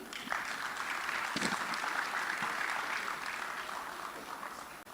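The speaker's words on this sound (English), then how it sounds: "Please, a round of applause for Bode Agoro." Crowd applause at the Africa Gaming Expo 2026 rises quickly into a dense, steady clapping from many hands in a large hall, then thins slightly as it trails off near the end.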